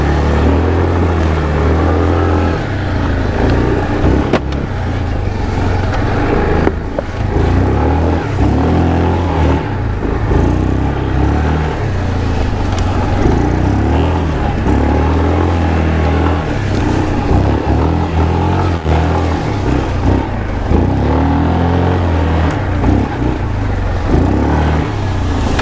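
A Yamaha Kodiak 450 EPS ATV engine braking in high gear on a trail ride, a steady, loud, close engine drone with low rumbling tones and slight fluctuations throughout, no talk.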